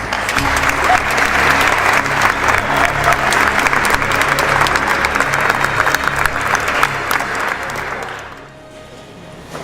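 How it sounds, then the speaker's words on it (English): A university business challenge audience applauds itself, a loud sustained wash of many hands clapping for about eight seconds before tapering off quickly into quiet. "why don't you give yourselves all a big round of applause?"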